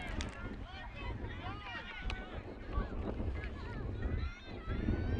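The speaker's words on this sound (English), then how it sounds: "It's windy here." Wind gusts across an outdoor high school unified soccer match between Londonderry, NH and Nashua North, a constant low buffeting rumble on the microphone beneath commentators talking throughout.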